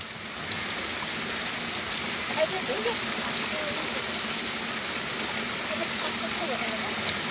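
Heavy hail and rain pour down in a dense, constant patter on surfaces outdoors, steady roar with scattered sharper impacts and a faint low hum beneath.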